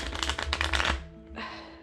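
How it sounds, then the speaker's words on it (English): Oracle cards are riffle shuffled by hand, giving a dense, crisp burst of rapid flicking for about a second. A softer, shorter rustle of the deck being bridged or squared follows. "I tend not to shuffle reversals into my deck, so this is a really comfortable way to shuffle."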